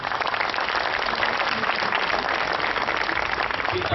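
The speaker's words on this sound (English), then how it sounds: "A round of applause, please." An audience applauds a panel at an entrepreneurs' week event in Sri Lanka, a steady dense wash of clapping filling the room for the full four seconds, loud and even with no one speaking.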